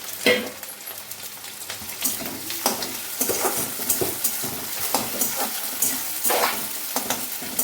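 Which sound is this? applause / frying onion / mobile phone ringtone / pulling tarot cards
frying onion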